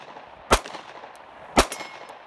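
Two sharp handgun shots ring out about a second apart at an outdoor shooting range, each a loud crack followed by a short decaying echo.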